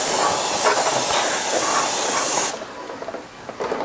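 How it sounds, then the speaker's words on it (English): An air-cooled Porsche engine case is hosed through with a loud, steady spray hiss that runs for about two and a half seconds, then cuts off and leaves a quiet room. "I'm just going to go ahead and hose the whole case through"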